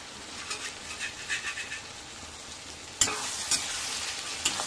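Onions sizzling in a hot pan while a utensil stirs and scrapes in short strokes, the frying growing louder partway through.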